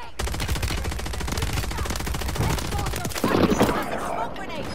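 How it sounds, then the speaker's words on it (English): An airstrike called in during a Warzone video game match: a dense, fast stream of gunfire-like impacts and blasts, loud and constant, with a rumbling burst of explosions near the end and some voices mixed underneath. "I'm popping the airstrike on it"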